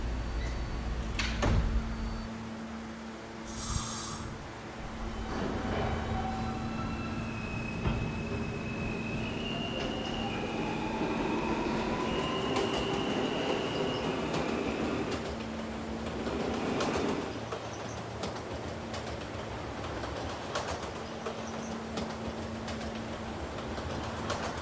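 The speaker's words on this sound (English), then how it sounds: "Stand clear of the closing doors, please." Subway doors on an R160A train slide shut with a brief chime and thump inside a Roblox game, followed by the train's steady rumble and rising motor whine as it pulls away, all continuous and fairly loud.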